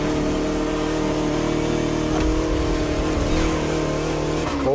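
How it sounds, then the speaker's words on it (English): Vintage Bugatti car driven along countryside roads in France in The Crew Motorfest, a steady close engine drone with shifting pitch and light tire noise, continuous throughout with no talking. "A car that embodies Bugatti's pioneering spirit and passion for perfection."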